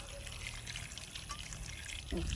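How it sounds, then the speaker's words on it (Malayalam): Water poured into a pot of washed pumpkin pieces for cooking: a soft, continuous trickling pour, fairly faint and steady over a low background hum. "കഴുകി വെച്ച് മത്തന് ഇട്ട് വേവിക്കാൻ വെക്കുകയാണ് വെള്ളം ഒഴിക്കുകയാണ്"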